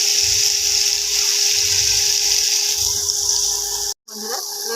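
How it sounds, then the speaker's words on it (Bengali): Water hits hot oil in a pan while egg curry cooks, making a steady, loud hissing sizzle that runs for several seconds before cutting off abruptly into a brief clatter. "এবার জল দিয়ে দেবো"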